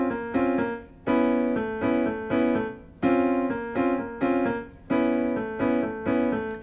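Piano playing a right-hand chordal hook, a repeating A-major-like voicing built on the 6th, major 7th and 9th dropping to the 5th: bright stabbed chords recurring in a steady pattern, clear and close, with no talking.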